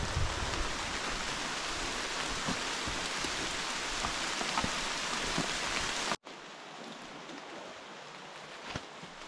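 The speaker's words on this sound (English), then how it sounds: "Wasn't even supposed to rain and it's pouring out." Heavy rain pours down steadily in the New Hampshire backcountry, a dense close hiss of drops on surfaces that suddenly drops to a quieter patter near the end.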